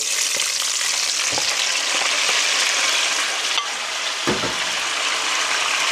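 Onion and tomato sizzle loudly in a frying pan with vinegar, soy sauce and oyster sauce for squid adobo, a steady close hiss broken by a few soft stirring knocks.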